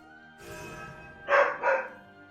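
Dogs in the Shadowverse card game bark twice in quick succession, a pair of clear, close, synthetic-sounding barks over a faint game backdrop.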